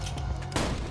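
Gunfire in Borderlands 2, a loud, dense burst of shots cracking in quick succession, with a heavier blast about halfway through.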